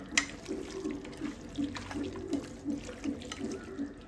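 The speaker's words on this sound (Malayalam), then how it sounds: "ഇനി നമുക്കിത് കഴുകിയിട്ട് കൊണ്ടുവരാം" Rice is washed by hand in water for biryani, making soft, repeated sloshing and swishing splashes in a steady rhythm at close range.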